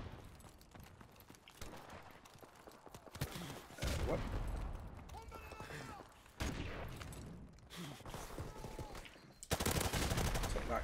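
RPD machine gun fire in Call of Duty: Modern Warfare Remastered, bursts of rapid automatic shots in several loud clusters with quieter gaps and speech between them.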